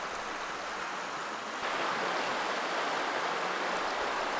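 Water rushes steadily beside a car-camping site, a dense, close, continuous roar with no voices.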